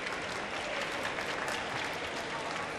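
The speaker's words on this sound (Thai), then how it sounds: "เสียงปรบมือครับ" A crowd at a Muay Thai bout claps in a steady, dense wash after the last round ends, the applause even and fairly loud throughout with little else audible.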